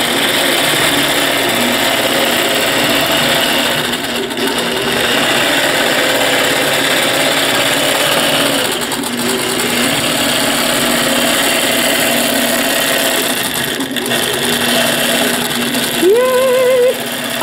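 A Millennium longarm quilting machine stitches a quilt pattern with a loud, steady mechanical whir and hum that continues without a break, close up, with a faint short whine near the end.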